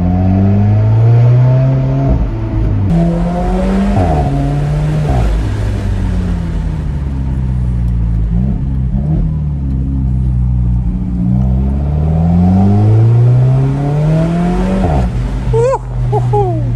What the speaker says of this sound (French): la 4C fait tellement de bruit que le proprio a voulu l'écouter aussi de l'extérieur